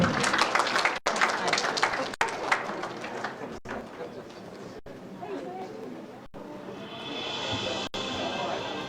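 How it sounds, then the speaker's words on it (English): An audience at a festival's opening program claps at length, with scattered applause under a loud announcer's voice that fades as the clapping continues alone. "A big warm round of applause, ladies and gentlemen."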